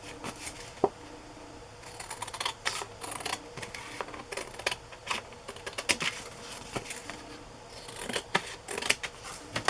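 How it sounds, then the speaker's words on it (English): Scissors trimming a row of squares off a sheet of paper for a French Provincial ephemera tag, quiet irregular snips and rustles close by, with soft handling noises between cuts. "I'm going to just trim off 1 row of squares"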